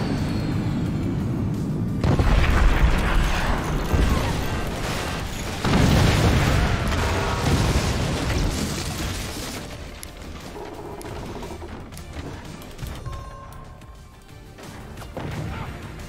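A nuke explosion in the Forts video game, heard as loud booming crashes with rumbling low-end bursts near 2 and 6 seconds that fade into a lingering roar, with no talking.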